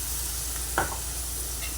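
Tomato paste going into a pan of frying onions for a restaurant-style veg fried rice, with a steady sizzle and one brief louder stirring scrape midway, no talking.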